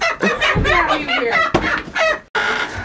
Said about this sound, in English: Okay, not with the rooster that attacked me.